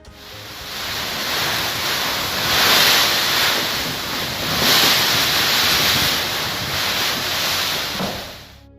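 Strong wind roars steadily with rising and falling gusts, a broad rushing noise buffeting the microphone throughout, in the Rostov region of Russia.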